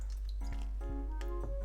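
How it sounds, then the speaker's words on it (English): Water is poured into a steamer pot beneath parchment paper for steaming pork and red bean buns: faint, brief splashing and dripping over a steady low hum. "I'm gonna put under this parchment paper some water."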